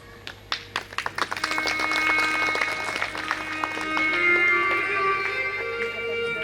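Audience claps at a Srimad Bhagwat Katha religious discourse, starting as a few sharp separate claps and swelling into steady applause from a crowd. A low sustained musical tone hums underneath.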